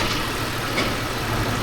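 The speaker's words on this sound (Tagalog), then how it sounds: "So yun, umandar na yung mga makina." Toyota FJ Cruiser engine idling with the air-conditioning running, a steady low mechanical drone with a faint even hum and no voices.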